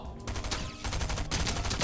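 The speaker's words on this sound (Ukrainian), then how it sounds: "Там чувак зараз вийде, і я в нього постріляю." Rapid gunfire in the Fortnite video game, loud clustered shots rattling off in quick bursts over nearly two seconds with a brief gap midway, no talk.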